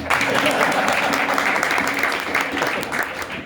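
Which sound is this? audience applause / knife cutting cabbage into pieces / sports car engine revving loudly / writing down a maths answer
audience applause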